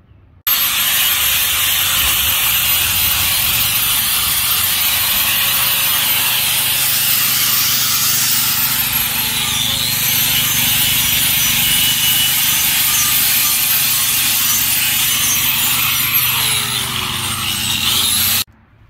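Angle grinder working steel while repairing a broken-off handrail at its concrete base, a loud, steady abrasive whine that runs almost unbroken for about eighteen seconds with no talk.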